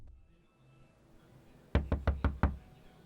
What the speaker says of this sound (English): there was a knock at my door